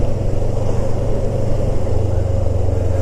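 A 2008 Kawasaki ER6f (EX650, Ninja 650) motorcycle engine runs steadily just over 2,000 RPM, a loud, close, even rumble with a faint fairing rattle buzzing in it.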